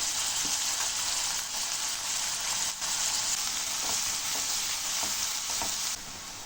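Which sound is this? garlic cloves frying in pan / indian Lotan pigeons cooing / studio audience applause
garlic cloves frying in pan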